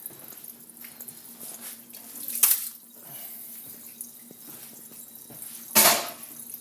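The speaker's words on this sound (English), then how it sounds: "put it in the colander, in the sink, let it drain" Spinach drains in a colander in a kitchen sink: quiet running, trickling water with two brief, louder splashing bursts.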